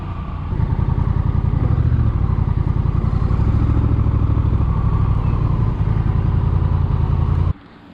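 A Honda CMX 1100 Rebel motorcycle with a dual clutch transmission, its 1100cc engine rumbling steadily and loudly nearby as it rides, then cutting off abruptly near the end.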